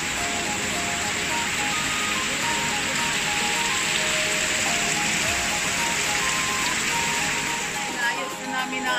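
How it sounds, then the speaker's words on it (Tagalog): Steady heavy typhoon rain hisses down continuously during flooding in Taguig, a dense close wash of falling water with faint voices underneath. "Sana tumigil na yung ulan."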